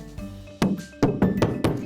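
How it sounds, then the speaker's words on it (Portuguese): A cake tin filled with batter is rapped down onto a cloth-covered surface five times, producing dull, padded thunks, the first one quiet and the last four loud and close in an uneven rhythm. "para garantir que não há bolhas de ar, vamos dar uma pancada em cima de um pano"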